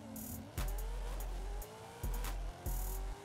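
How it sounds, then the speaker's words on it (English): A 1995 Chevrolet Corvette ZR-1 with a 1000 hp drag tune launches in Forza Horizon 5, engine roaring loudly with sharp bursts and abrupt gear-shift cuts, tire squeal mixed into the acceleration. "Man, this thing launched so good."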